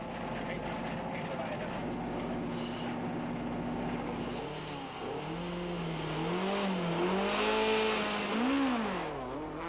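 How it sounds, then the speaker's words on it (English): A Toyota Conquest rally car accelerating into a parking-lot stage at the 1993 Volkswagen Algoa Rally, its engine rising and falling in revving sweeps at a steady, fairly close distance. "throttles the conquest into the stage, officially starting the 1993 Volkswagen Algoa Rally."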